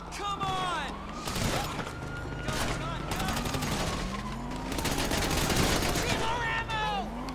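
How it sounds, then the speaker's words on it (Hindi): Rapid bursts of gunfire in GTA V crackle repeatedly, mixed with whooshing effects, while people talk over the action. "अरे गोलियां पड़ रही हैं"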